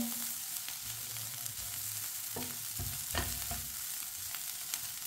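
Carrots cook in a pan while a spoon stirs them, a soft steady sizzle broken by a few scraping strokes, fairly quiet and close.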